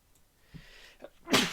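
A single sneeze bursts out loudly near the end, preceded by a few faint breathy intakes and quiet room noise.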